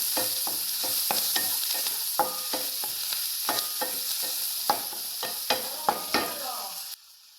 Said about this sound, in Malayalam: ഒന്ന് ഇളക്കി കൊടുക്കും നമുക്ക് ഉള്ളിയൊക്കെ ഒന്ന് വാടണം